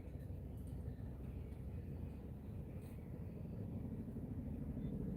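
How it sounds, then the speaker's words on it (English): A helicopter flies nearby, heard as a low, continuous rumble that holds steady and swells slightly toward the end. "I don't know if you guys can hear that helicopter or not"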